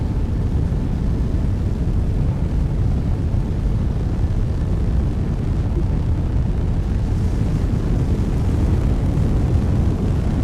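A rocket engine in Kerbal Space Program 2 throttles up during ascent, producing a loud, continuous, dense low roar that stays steady and heavy throughout with no breaks.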